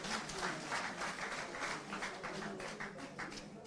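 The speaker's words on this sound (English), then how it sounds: "let's acknowledge them with a round of applause" A crowd at a political party gathering gives a round of applause for party leaders after an election, producing a fairly quiet, continuous wash of clapping with some murmuring voices.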